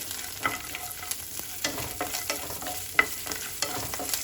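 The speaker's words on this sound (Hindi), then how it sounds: "साथ ही ऐड करेंगे काजू और इन सबको अच्छे से फ्राई करेंगे" Cashews and green coriander stems frying in oil for restaurant-style paneer tikka masala, a steady close sizzle broken by scattered stirring clicks and scrapes, with no voices.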